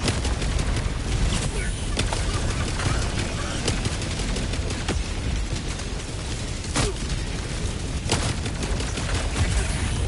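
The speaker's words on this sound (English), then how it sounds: "Orbital barrage incoming. Stand clear." Orbital barrage explosions from Helldivers 2 rumble continuously alongside dense gunfire, with loud booming impacts and sharp bursts spread across the whole stretch.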